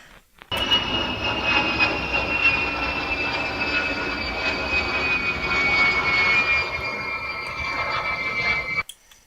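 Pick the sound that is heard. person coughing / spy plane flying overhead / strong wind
spy plane flying overhead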